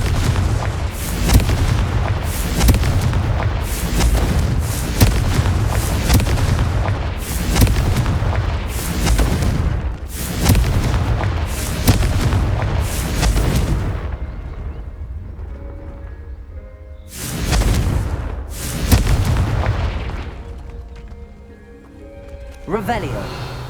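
Confringo blasting-spell explosions from the Hogwarts Legacy video game boom in rapid repeated bursts, loud and close, pausing briefly before two more blasts, with a voice speaking over the action.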